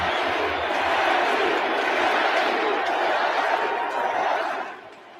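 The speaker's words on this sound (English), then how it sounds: "Listen to this crowd" A large baseball stadium crowd roars in a dense, steady wash of cheering and chatter that holds loud for several seconds before dropping away near the end.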